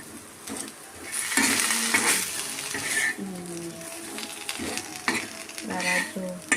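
Potatoes and fish dusted with chilli powder are stirred and fried in a pan, a spatula scraping in irregular strokes over a low sizzle, close by, with no talking.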